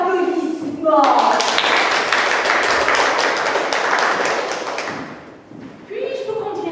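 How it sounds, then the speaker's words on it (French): Audience applause for a woman, a dense burst of clapping that swells, holds for about four seconds and then fades, with voices speaking before and after it. "Et pour vous, madame, une tempête d'applaudissements."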